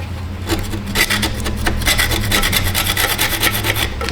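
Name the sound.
filing corrosion off brake caliper with caliper file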